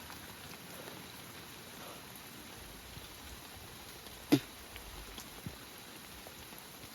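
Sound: heavy rain pouring down

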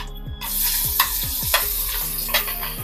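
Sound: onion and tomato sautéing in oil

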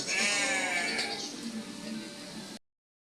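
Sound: goat bleating loudly

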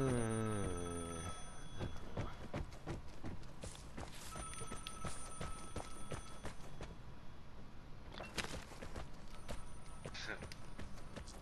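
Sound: phone ringing in video game Vigor

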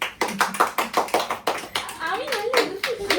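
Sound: applause for Meenakshi

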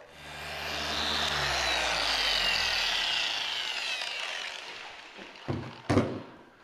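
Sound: dual-action eccentric polisher polishing car paint, Volvo C70

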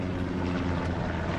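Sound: recon plane flying overhead in the video game Hell Let Loose

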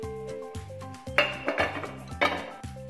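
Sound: flipping egg noodle pizza from pan onto plate

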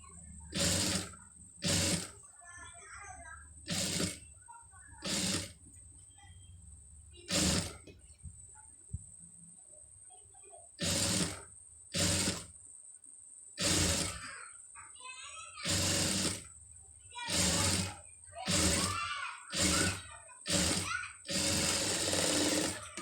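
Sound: sewing machine stitching piping onto fabric

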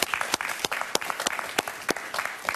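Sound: studio audience applause

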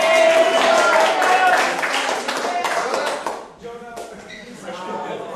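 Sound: audience applause for a hypnosis show volunteer

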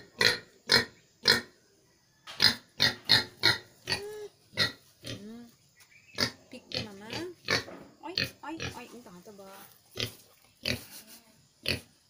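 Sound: pig grunting

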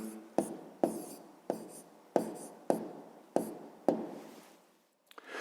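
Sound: writing the answer down

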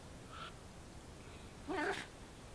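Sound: cat meowing

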